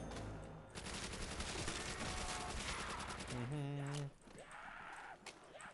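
A Thompson submachine gun with a drum magazine rattles in rapid, sustained automatic bursts in a Call of Duty custom zombies prison map, followed by a brief voice and tonal game sounds.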